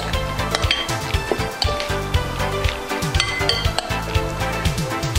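A spoon stirs a squid salad with canned green peas, mayonnaise, salt and pepper in a bowl, giving rapid, irregular clinks and scrapes against the dish in a busy, continuous rhythm with no talking.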